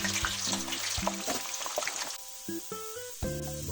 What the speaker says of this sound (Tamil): இப்ப வெங்காயத்தை போட்டு பொரிச்சு எடுத்துக்கலாம்